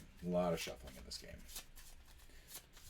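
Cards for the Dead of Winter board game being shuffled at a tabletop, a brisk riffle with papery flutter and soft clicks, close and moderately loud, with a faint voice in the background.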